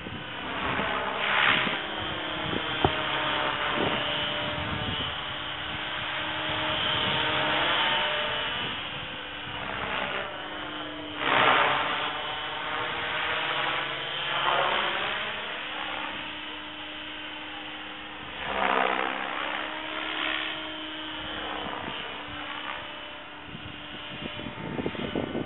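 The electric motor of an Align Trex 550E RC helicopter whines and surges in pitch as it flies around the countryside, with gusty wind noise buffeting the microphone.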